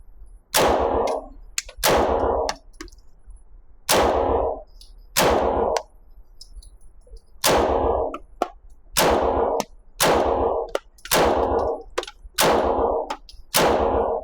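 Single gunshots from an IWI Uzi Pro or a Sig Sauer Flux P320 pistol ring out about a dozen times at irregular intervals, loud, close and sharp, with brief echoing tails and quiet gaps between.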